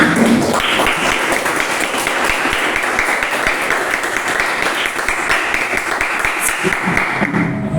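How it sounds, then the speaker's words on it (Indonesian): A school audience applauds steadily and loudly throughout, a dense continuous wash of clapping with no break. "Tepuk tangan dulu untuk semuanya."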